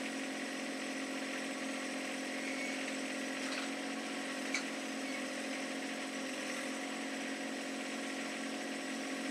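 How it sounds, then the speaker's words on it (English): Hydraulic clamp function opening on a John Deere 1025R tractor's multi-function grapple, heard as a steady engine drone with a faint whine, slow and smooth, with no talk. "This is what your clamp function would look like just by itself."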